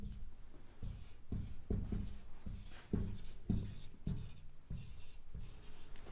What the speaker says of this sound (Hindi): अब देखिए कुछ संख्याएं फिर से लिखते हैं